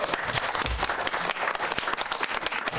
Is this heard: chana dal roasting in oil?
no